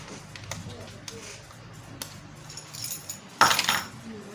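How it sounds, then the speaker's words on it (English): Metal car keys scrape and clink against a computer motherboard while prying out a large coin-style CMOS battery, with scattered light taps and a sharper metallic burst near the end. "let me use my car keys to remove the battery."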